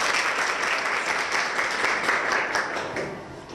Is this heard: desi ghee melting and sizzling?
no